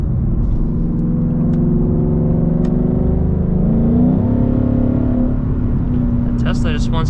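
An E85-tuned Ford Mustang GT accelerates hard, its engine note climbing steadily in pitch as a loud, continuous drone fills the cabin, with voices talking over it.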